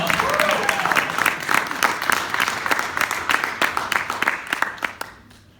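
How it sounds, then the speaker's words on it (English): An audience at an NFT conference in New York claps and cheers loudly in sustained applause that thins out and fades over the last second. "can we get a round of applause for Upbring?"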